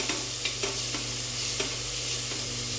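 Onions sautéing in oil for a vegetable biryani, cooked until brownish, give a continuous close sizzle broken by several soft scraping stirs from a spoon against the pan.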